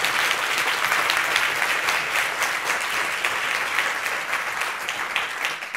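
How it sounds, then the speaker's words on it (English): Steady audience applause at a conference welcome session, a dense, even wash of clapping held at moderate level throughout with no pauses. "A big round of applause."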